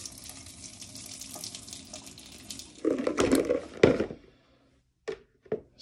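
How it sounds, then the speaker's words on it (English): Hot water is poured off from softened stoppers while making hop wine, a faint running trickle that swells into a louder, splashing pour, followed by a few brief clunks and drips near the end. "I'll just pour some of that hot water off."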